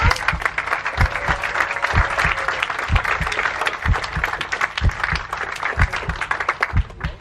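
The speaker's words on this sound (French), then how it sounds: "On applaudit Aïda." A French audience at a talk on entrepreneurship applauds steadily throughout, with close, sharp individual claps standing out over a dense crowd of hands.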